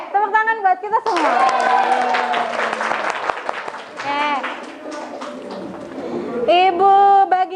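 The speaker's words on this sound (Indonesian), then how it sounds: "Oke, tepuk tangan buat kita semua." Students in an economics class clap together in a classroom, a sustained burst of applause running for several seconds between bits of a teacher's voice at the start and end.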